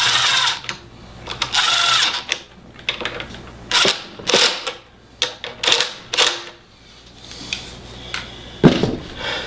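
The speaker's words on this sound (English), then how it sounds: "Try to thread it first, spin it a couple times, and then use an impact." An impact wrench drives a bolt on a go kart in loud, stuttering bursts of rattling hammering, separated by short pauses, close by with no talk over it.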